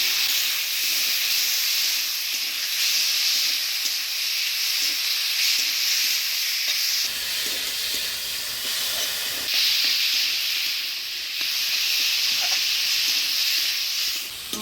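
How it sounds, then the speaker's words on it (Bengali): Boiled kochur loti (taro stolons) frying with ground spice paste, green and red chillies, garlic paste, turmeric and salt in a pan, giving a loud, continuous close-up sizzle and hiss that surges a couple of times. "মশলা দিয়ে কচুরলতিটা ভালোভাবে কষে নিলাম"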